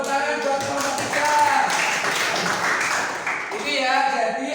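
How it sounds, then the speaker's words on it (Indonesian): Applause for group 3 in a classroom session of a PPG teacher-training course at UIN Salatiga: a dense, steady clatter of many hands clapping that lasts the whole moment, with voices mixed in underneath. "Tepuk tangan buat kelompok 3."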